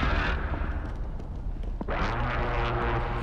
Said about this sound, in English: I don't think those are footsteps below him. I think those are explosions.